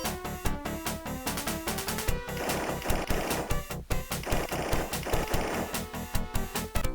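Rapid gunfire in a Sega RoboCop-style action video game, sharp repeated shots rattling steadily over loud game music and effects.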